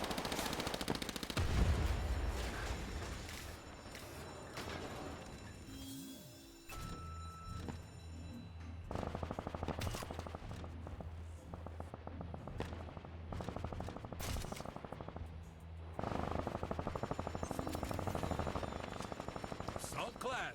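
Bursts of automatic gunfire from the video game Combat Champions rattle loudly and almost without a break, with short gaps between volleys and speech mixed in.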